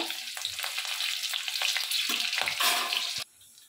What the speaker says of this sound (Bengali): আমি এটা ভালো করে একটু ভেজে নেব